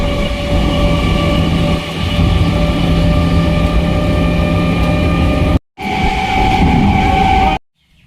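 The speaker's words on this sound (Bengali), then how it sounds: "ট্রেন ধরবো স্টেশনে দাঁড়িয়ে আছে এলো" A train arriving at a station rumbles loudly and close by, a steady heavy drone with humming metallic tones, cutting out briefly twice near the end.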